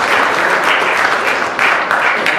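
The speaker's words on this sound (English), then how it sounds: "Ladies and gentlemen, please give our panel a very warm round of applause" A panel on stage at an HBL PSL roadshow event in New York City gets a sustained round of audience applause, dense steady clapping from a large crowd with a few louder swells throughout.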